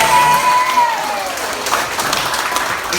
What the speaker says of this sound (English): Give a hand of applause to all the organizers of this program.